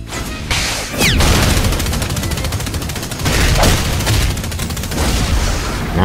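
Mahito's Soul Punisher move in a Roblox anime game, a loud rapid barrage of booming, gunfire-like hits that runs continuously for several seconds with dense crashing impacts and no talking.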